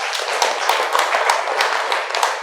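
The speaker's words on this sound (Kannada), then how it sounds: "ಜೋರಾಗಿ ಚಪ್ಪಾಳೆ ಕೊಡಿ ಅವರಿಗೆ" An audience at a Sri Ramanavami festival talk claps loudly, producing a dense, steady patter of many hands that continues throughout, close and without speech.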